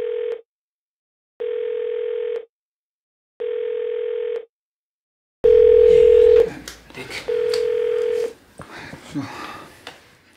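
Telephone dial tone during a phone call: three steady, evenly spaced beeps in quiet, then two louder ones as a voice and background sounds come in.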